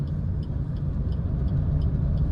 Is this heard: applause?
no